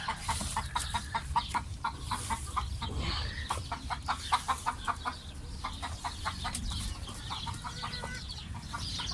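A flock of one-to-two-year-old laying hens in Egypt clucks continuously in rapid overlapping bursts, a busy, moderately loud coop chorus over a low background rumble with no talking.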